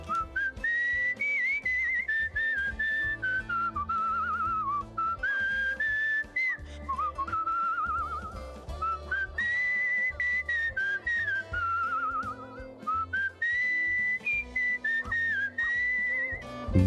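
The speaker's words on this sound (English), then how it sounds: "Who is this person that's way too good at whistling?" Skilled, melodic whistling carries a wandering tune over musical accompaniment in the video game Where the Water Tastes Like Wine, sustained and prominent without pause.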